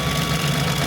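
A sewing machine running steadily while stitching stretch fabric, giving a continuous mechanical hum and whir at close range.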